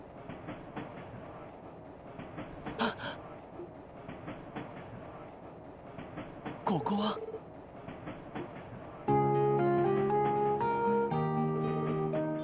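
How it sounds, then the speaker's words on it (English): A train rolling along rails in the video game Trails from Zero, a steady rumbling clatter with a few sharper clanks, then game music swells in over it near the end. "Train."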